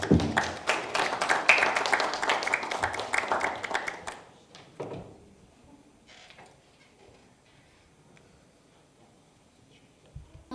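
Applause from a conference audience, a dense burst of many hands clapping for about four seconds that then drops off sharply, leaving a few scattered faint claps and quiet room tone.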